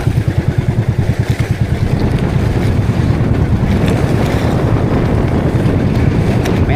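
Rough sea churns around a boat off Surigao, loud continuous wash and rumble with heavy wind buffeting the microphone throughout, the motor's pulsing audible in the first seconds.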